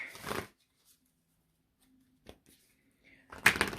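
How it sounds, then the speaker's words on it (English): Oracle cards from a Moonology deck being shuffled, with brief riffling bursts at the start and a louder flurry near the end separated by near silence, close and no one speaking. "Let me go ahead and get out my Moonology deck."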